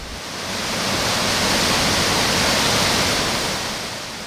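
A natural waterfall about ten metres high pours steadily in an outdoor art museum garden, a loud, continuous broadband rush with no breaks or voices.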